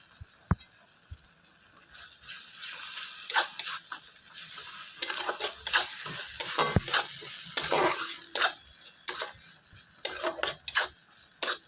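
Potatoes tumble into fried, cooked-down spice paste in a pan for a Bengali prawn curry, followed by a steady sizzle and repeated scraping stirs of a spoon against the pan, close and fairly loud, with no talking.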